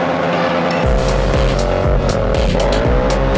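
Honda CRF250L dirt bikes riding off, a loud engine rising from about a second in with repeated revving and gear-shift dips, tire noise mixed in, close and continuous with no talk.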